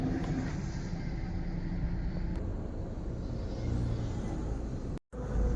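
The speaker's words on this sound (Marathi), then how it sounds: "समोर जात आहेत गाड्या" Cars driving past near a Maruti Suzuki Arena showroom beside a long queue for CNG, a steady broad rumble of passing traffic that fills the whole stretch and cuts out briefly near the end.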